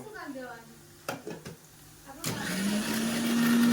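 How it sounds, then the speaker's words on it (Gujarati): An electric kitchen mixer grinding garlic for veg pulao, starting as a loud steady whir that builds and holds to the end after some brief clatter and faint talk. "મિક્સરમાં પીસાય છે, આ લસણ પીસાઈ ગયું છે"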